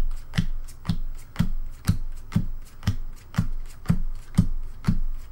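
Playing cards being shuffled at a live board-game session for Joking Hazard, about ten crisp riffle bursts in a steady rhythm, close and clear with no talk.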